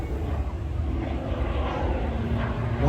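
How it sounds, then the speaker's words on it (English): Propeller aircraft with auxiliary jet engines engaged during an air show at Ayr, a loud steady roaring drone with a broad rushing jet hiss, continuous and fairly close. "So as I said, you can hear when he engages the jets."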